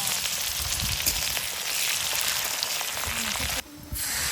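Fish curry (macher jhal) sizzling and frying in a pan as village women cook outdoors, a steady close crackle that stays continuous, with a brief dip near the end.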